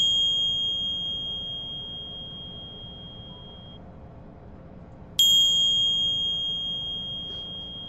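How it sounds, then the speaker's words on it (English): A bright electronic notification ding rings out, a sustained tone that fades away, then strikes again with a fresh clear chime a few seconds later. No one speaks. "click that little bitty bell"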